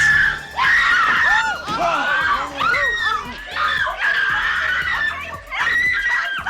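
Teenagers scream loudly in the horror film Nightmare on Elm Street, several shrill overlapping shrieks close together, rising and falling across the clip with some voices mixed in.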